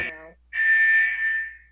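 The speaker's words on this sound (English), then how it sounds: "I set off an alarm." A loud electronic alarm tone in Club Penguin Rewritten blares steadily for over a second, preceded by a short burst of a voice or tone and cut off abruptly.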